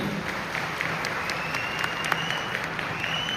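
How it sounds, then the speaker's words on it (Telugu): Audience at a diamond celebration event claps steadily, a dense, even burst of applause from a crowd heard up close, lasting a few seconds with scattered sharper claps. "అందుకోసం బిగ్ క్లాప్ అందరూ"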